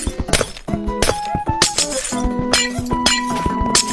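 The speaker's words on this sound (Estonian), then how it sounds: "See on minu klaas, ma võin seda lõhkuda." Glass is broken in a rapid series of sharp shattering crashes and bright clinks, mixed with ringing tonal chimes, loud and close throughout.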